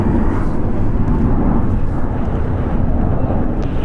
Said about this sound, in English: It's a Boeing 747 freighter